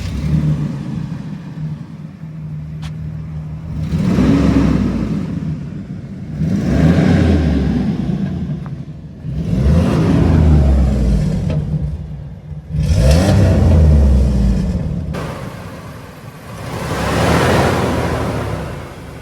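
Dodge Dakota pickup with a Magnum 3.7 liter V6 engine, revved repeatedly from idle under the open hood, giving about five loud rising surges of rumble with short settling pauses between them, close and without talk.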